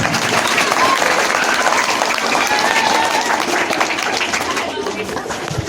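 A school crowd applauds loudly and steadily at a farewell ceremony for Class 8 students at an Urdu-medium school, with dense continuous clapping that fills the whole stretch and eases off slightly near the end.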